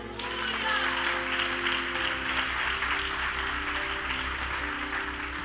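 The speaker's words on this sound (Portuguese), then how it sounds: "Pode aplaudir o Senhor?" A church congregation applauds during a sermon, steady broad clapping over a sustained low musical drone, with no voices standing out above it.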